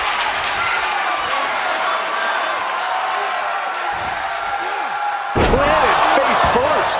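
Wrestler slammed face first onto the mat in the Def Jam 2K24 wrestling game, a sharp heavy impact that lands over a roaring arena crowd and continuous commentator talk.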